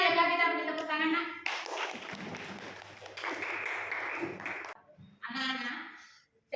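A school class claps hands for a classmate after a lesson on news texts, a burst of mixed clapping lasting about three seconds between stretches of a child's and a teacher's speech.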